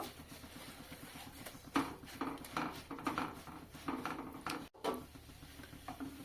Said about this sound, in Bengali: সিমাই দিয়ে খুব ভালোভাবে এটা নাড়াচাড়া করে মিশিয়ে নেব।